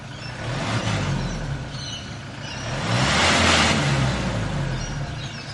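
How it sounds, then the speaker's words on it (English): A Toyota Hilux N80 engine revs up on a dyno and holds, exhaust roaring louder toward the middle before easing slightly, a continuous throaty drone with no voices. "Also fitting the exhaust, so we did a quick sound test."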